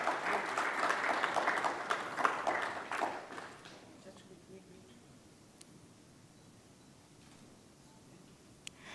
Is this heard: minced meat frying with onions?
no